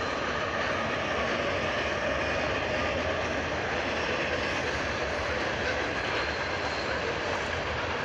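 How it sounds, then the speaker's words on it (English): A train rumbling past in Aurora, Colorado, a steady loud roar that stays constant and heavy throughout, with no break. "Train."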